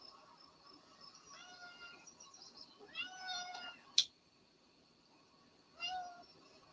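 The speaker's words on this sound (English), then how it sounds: "there's my dang cat. Inspector Eddie." Domestic cat meowing in a few short separate calls spread across the stretch, fairly faint and indoors, with a brief sharp click between them and no talking.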